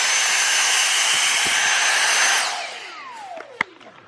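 A vacuum cleaner runs steadily and loudly while cleaning the rear window trim channel of a BMW E90, then winds down with a falling whine, and a sharp click follows near the end.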